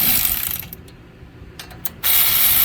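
A ratchet clicks as it snugs 17mm brake caliper bracket bolts on a 2012 Hyundai Tucson GLS, with short loud bursts of ratcheting around quieter pauses, close up and with no talking.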